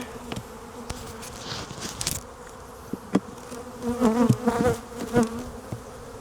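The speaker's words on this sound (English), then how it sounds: "the bees are flying up to get at me" Honey bees buzzing around an open hive during an inspection, several individuals droning close by with rising and falling passes, louder bursts as bees fly up near the listener.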